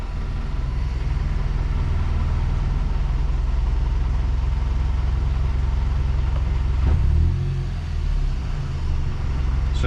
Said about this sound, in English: It's just the heat shield underneath the car that's making the rattle sound.